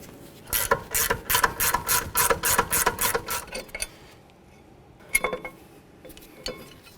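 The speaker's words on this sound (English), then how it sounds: "Move along to my ratchet wrench." A ratchet wrench loosens the rear brake bracket bolts on a 2010–2014 Mercedes-Benz E350, making a quick run of about a dozen close, sharp metallic clicks, then a pause and a few more clicks.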